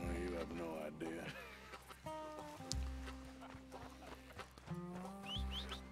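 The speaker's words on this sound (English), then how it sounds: "Is that my horse? Oh, my horse." A horse in the Red Dead Redemption 2 video game clip-clops and whinnies close by, with brief hoof knocks and a short neigh amid game music and someone talking.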